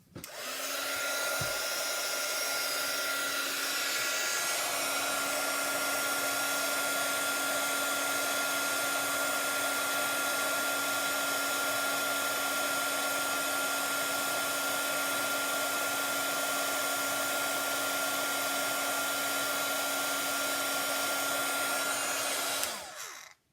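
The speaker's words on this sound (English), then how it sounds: "Heat emboss tool." A heat embossing tool blowing hot air onto embossing powder, a steady loud hair-dryer-like whoosh with a constant whine, running unbroken for over twenty seconds and cutting off at the end.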